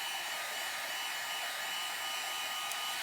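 A heat tool blows steadily to quickly dry a watercolor background, a constant close airy whoosh with no breaks or talking.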